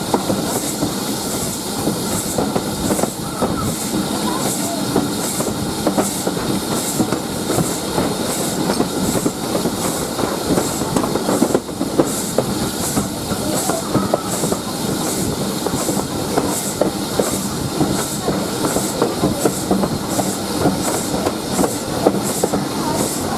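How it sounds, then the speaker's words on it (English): A passenger train runs on a Norfolk railway toward Sheringham, heard from on board as a loud, continuous rumble and hiss with a regular clickety-clack of wheels over rail joints. "We're now on the train back down towards Sheringham"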